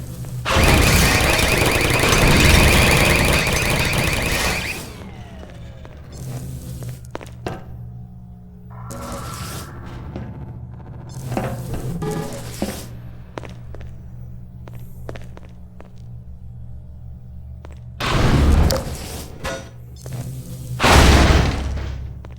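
Automated turrets in Half-Life 2 fire in a loud sustained burst at the start, then give sporadic mechanical thunks and clanks, with two more loud bursts later, no talking.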